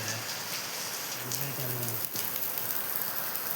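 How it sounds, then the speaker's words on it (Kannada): Heavy rain drums on a tent during a cycling trip, a dense continuous hiss of drops close overhead, with faint low voices briefly underneath. "ಮಳೆ ಫುಲ್ಲು ಜೋರು ಸ್ಟಾರ್ಟ್ ಆಗಿದೆ"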